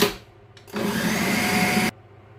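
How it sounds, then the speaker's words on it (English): A blender whirs loudly for just over a second, whizzing raw vegan, sugar-free chocolate snowball mixture in a short, steady burst that stops abruptly into silence. "And then start whizzing that up."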